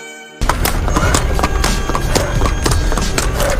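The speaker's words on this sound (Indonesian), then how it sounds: "Hingga langkah kaki pun menjadi suara sepatu kuda." Horse hooves clip-clop in rapid uneven strikes from a film soundtrack, loud and busy over a dense background that starts abruptly after a brief quiet moment.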